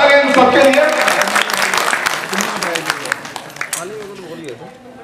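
Loud applause from a crowd fades gradually over several seconds, with talking audible under and after the clapping.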